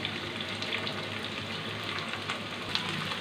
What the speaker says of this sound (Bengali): রসুনগুলো 1 মিনিট ভেজে নেওয়ার পর এতে আমি দিয়ে দিব কেটে রাখা পেঁয়াজগুলি